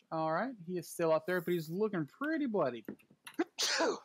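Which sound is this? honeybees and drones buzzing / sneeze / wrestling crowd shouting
sneeze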